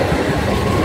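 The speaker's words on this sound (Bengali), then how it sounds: "বদে দাঁড়িয়ে আছি, ট্রেন যাচ্ছে।" A train rolls past a railway level-crossing gate, a loud, close, continuous rumble and clatter of wagons with no voices.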